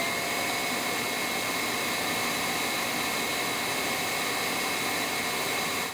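A Roborock Q5 Pro Plus dock self-empties with a loud, steady roaring whoosh of suction running unbroken throughout, like a powerful vacuum motor blowing hard, with faint high whine on top.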